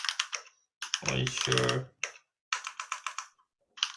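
Computer keyboard typing comes in quick bursts of clicks, with a voice speaking briefly in the middle.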